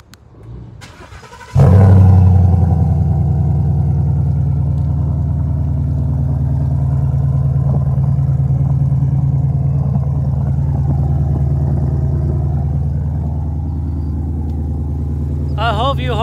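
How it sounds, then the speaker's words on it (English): A car engine with an aftermarket modified exhaust starts and idles with a deep, loud, throaty rumble that holds steady up close for many seconds. "So let me crank it up so you can hear the noise."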